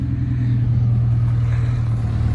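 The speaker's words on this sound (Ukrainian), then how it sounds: "То що треба, машина заїжджає." A vehicle pulls in with a loud, steady, low engine rumble that holds evenly throughout, close by, with no voices over it.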